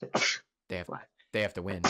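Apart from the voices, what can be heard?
sneeze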